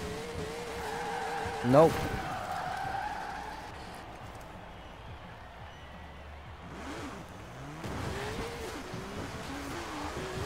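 A car spinning wheelie doughnuts in Forza Horizon 4, with a sustained tyre squeal and engine tone that rises and falls through the turns, under a man's brief spoken remark.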